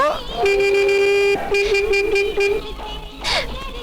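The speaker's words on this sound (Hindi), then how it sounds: "और अगर अभी उसका हॉर्न सुनाई दे तो" A car horn sounds in a couple of sustained toots, loud and close, with a short break between blasts.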